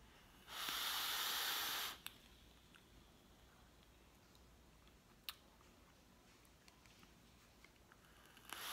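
A hissing inhale through a high-airflow e-cigarette loaded with pear and Bavarian cream e-liquid, one steady broadband draw lasting about a second and a half, followed by faint scattered clicks in quiet.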